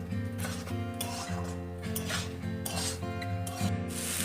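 A spoon stirs vegetable curry in a pan after spice-soaked water goes in, giving a steady rubbing, scraping rasp with faint clinks against the metal. Continuous and close, with a low hum and no talk.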